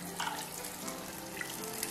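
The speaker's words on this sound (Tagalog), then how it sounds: "So all you have to do is just to rinse it off again." Running water rinsing a soapy makeup brush at a sink, a faint, steady splashing trickle with small bursts of spatter, quiet and close.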